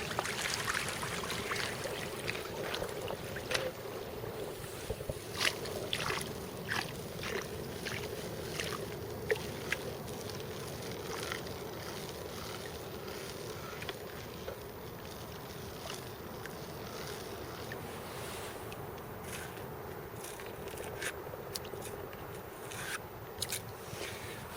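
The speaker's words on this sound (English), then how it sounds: "here comes a big wave from that boat that's just passed" Boat wake waves wash and splash steadily against a nearby shore, with scattered small sloshes and slaps of water over a low rumble.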